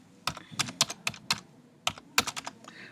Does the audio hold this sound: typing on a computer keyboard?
yes